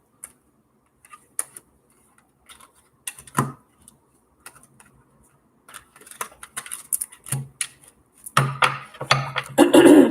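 Tarot-style reading cards are shuffled by hand, giving a sparse series of light papery ticks and riffles that grow denser and louder toward the end, with no talking.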